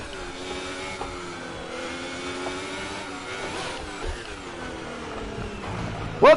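An F1 race car engine running in seventh gear in the F1 2018 video game gives a steady, high-pitched sustained whine at moderate volume. A sharp pitch rise comes at the end, and there is no talking.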